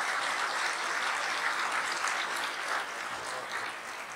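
Enthusiastic audience applause at an international mushaira poetry gathering in Bahrain, a thick, continuous roar of clapping that holds strong before easing slightly in the last second.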